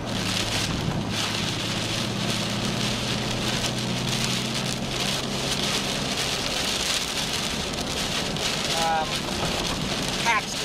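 Heavy rain during a severe storm in northern Oklahoma hammers steadily on a vehicle, a dense continuous roar with wind noise and a low engine drone beneath it.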